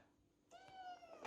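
A cat named Boots gives a single short, rising meow, faint and close, in a quiet room.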